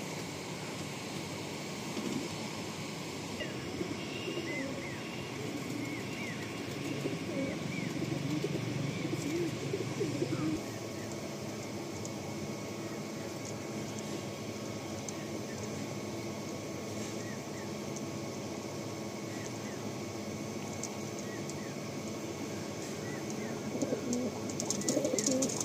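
Tiger line pigeons coo in low, intermittent murmurs over a steady mechanical hum and distant traffic-like noise, soft and ongoing throughout.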